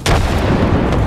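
A frag grenade goes off in Apex Legends as one loud, sustained boom. Its heavy rumble fills the full second.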